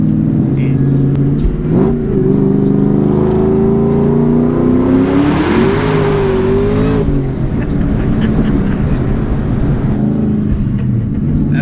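A 900-plus horsepower 2003 Whipple-supercharged Cobra Terminator with a 3-inch exhaust idles with a deep, steady rumble, revs up once in the middle and settles back. Someone talks over it.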